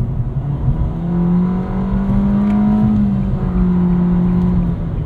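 A 2023 Nissan Versa SR engine revs up under acceleration, its drone rising steadily in pitch and holding loud and close throughout.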